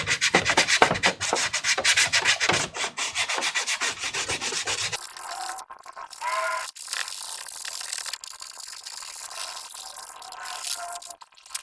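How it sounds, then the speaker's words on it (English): Glued plastic armor parts being sanded by hand: close, rhythmic rasping strokes at first, then softer, scattered rubbing and scraping with brief pauses. "You don't have to be worried about sanding the plastic down too much because it's all glued together very well."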